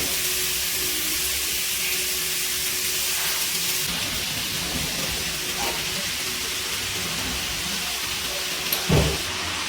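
Rice for restaurant-style mixed fried rice is stir-fried in a hot wok, giving a dense, continuous hiss like steam that runs steadily throughout, with a single dull knock near the end.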